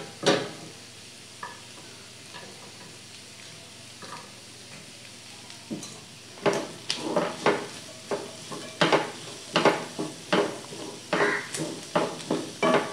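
Shallots, green chilies and onion fry softly in a pan while a spoon scrapes and clatters against the metal, sparse at first then in a quick, regular stirring rhythm, close and fairly quiet.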